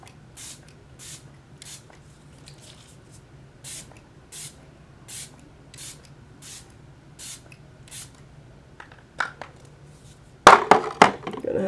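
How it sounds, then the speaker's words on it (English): Milani makeup setting spray misted in a series of about ten short, evenly spaced hissing spritzes, close and fairly quiet, followed by louder clattering handling noises at the end. "Going in with the Milani setting spray."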